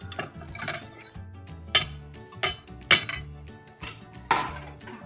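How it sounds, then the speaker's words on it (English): Whisk strokes scrape and clink against a bowl of crepe batter made with salt, vanilla and flour, coming in irregular bursts of tapping close by, with no talking. "Now we will start whisking again."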